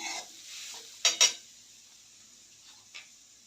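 A spiced dal mixture stirred in a pan, a few brief scraping strokes and two quick metallic clinks over a faint sizzle, close up and sparse, with no voices.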